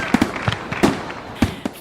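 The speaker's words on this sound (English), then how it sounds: "Oh, confetti, there's fireworks happening in the studio." Fireworks sound effect added in a studio: a series of sharp crackling bangs and pops, about six bursts spread unevenly over under two seconds, loud and close, with no talking.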